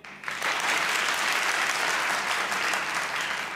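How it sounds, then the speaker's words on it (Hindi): A studio audience on a comedy talk show breaks into loud, sustained applause, dense clapping starting abruptly and holding steady to the end. "जिनको लगता है नूरीना ने अच्छा बजाया, वो तालियां बजाएं"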